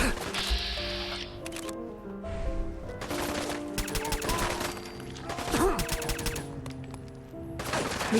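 Repeated gunfire from the player's weapon in the video game Fallout 4, bursts of loud shots and rapid volleys spread across the clip with brief gaps, alongside other game sounds.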